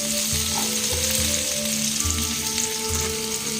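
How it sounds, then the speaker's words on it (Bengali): Green chilies sizzle steadily in hot oil in a pan, a dense continuous frying hiss with occasional stirring scrapes, close and loud with no voices. "এবার কাঁচা লঙ্কাটা দিয়ে দিচ্ছি, দিচ্ছি।"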